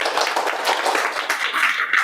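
Audience clapping in a lecture session, a dense, steady patter of many hands at moderate distance, continuing evenly for about two seconds without talk.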